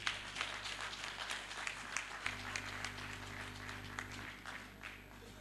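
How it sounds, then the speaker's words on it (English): Fairly faint applause from a conference audience for Comrade Adams Shomole, scattered clapping with some sharper individual claps over a steady low hum from the room's sound system. "Please let's keep the applause going for Comrade Adams Shomole."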